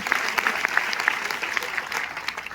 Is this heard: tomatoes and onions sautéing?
no